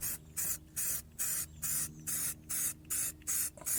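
Clear coat paint sprayed from an aerosol can onto the sill of a 1999–2007 Mk1 Skoda Fabia, nine even hissing bursts with short gaps between them, close and alone with no talking.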